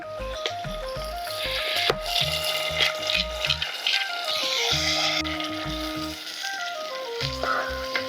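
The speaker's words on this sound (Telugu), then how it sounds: "అల్లం ముద్ద వేగుతుంటే" Steady oily sizzling of ginger-onion paste frying in a pan, continuous and close, with occasional stirring scrapes and a faint tonal hum underneath.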